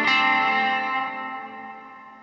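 EarthQuaker Devices Afterneath reverb pedal with its dampen control fully counterclockwise, giving a warm, dark tail: a struck chord swells and rings out, then slowly decays over a couple of seconds with no talking.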